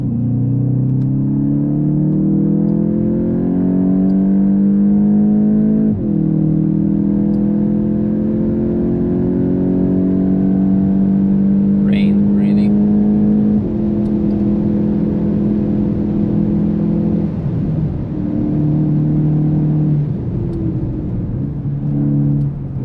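VW Golf 8.5 GTI on a warm-up lap of the Nürburgring, its engine droning loudly from inside the cabin with rising revs, gear changes and steady road rumble.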